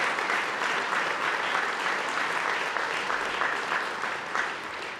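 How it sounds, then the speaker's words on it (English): Applause at a university Veterans Day event: a steady, dense wash of clapping from a large crowd, sustained and even for the whole stretch, easing slightly near the end. "you can clap for that"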